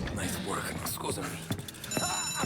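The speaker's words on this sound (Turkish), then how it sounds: "Sanırım alarm var bir şeyde." A ringing alarm goes off in Mafia: Definitive Edition, a thin high electronic tone entering near the end beneath ongoing game dialogue and ambient noise.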